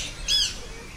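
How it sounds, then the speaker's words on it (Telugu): A single short, sharp parrot squawk rings out at a zoo park, a brief harsh call standing alone against quiet background. "బ్లూజమ్ హెడెడ్ ప్యారెట్, అలెగ్జాండ్రా ప్యారెట్"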